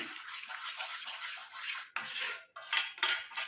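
Apple-based hair dye mixture being stirred in a bowl, with repeated scraping and clinking of a utensil against the bowl, fairly close and steady with brief pauses, no talking.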